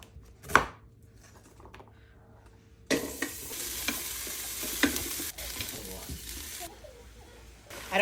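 Oil sizzles in a pan with egg noodles and garlic, a hiss that bursts in suddenly after a quiet opening tap and holds steady with occasional clicks and utensil knocks, close by and moderately loud.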